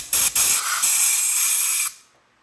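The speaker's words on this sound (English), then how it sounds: "What we're going to do is get the air compressor here" Compressed air hisses loudly at close range while blowing out bolt threads during a 2008 Honda CRF150R engine rebuild, with two short bursts followed by one long continuous blast that cuts off abruptly.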